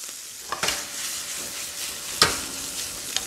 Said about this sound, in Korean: 자, 요렇게 여러분 볶아주시고요